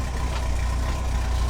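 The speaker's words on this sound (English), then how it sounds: "You can hear it just purring away back here." Van engine idling just after a cold start in freezing weather, around 25 degrees, a steady low rumbling purr with a faint even throb, heard from nearby and unbroken.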